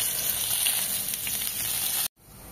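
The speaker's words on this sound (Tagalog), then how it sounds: "nagtotorta tayo ng sardinas" A sardine omelette fries in a pan with loud, close, continuous crackling sizzle of hot oil, briefly cutting out near the end before the sizzle resumes.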